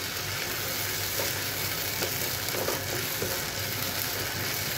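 Mango pieces fry in hot oil with spices for a naga chili pickle, a steady close sizzle running throughout with faint stirring scrapes and no voices.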